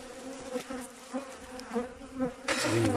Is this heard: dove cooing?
no